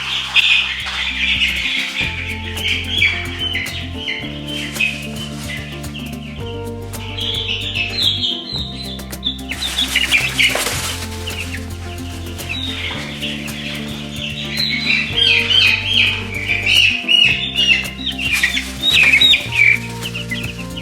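A brooder full of about thirty white ranger meat chicks peeps and chirps constantly, a dense, loud chorus of high cheeps that swells and overlaps throughout.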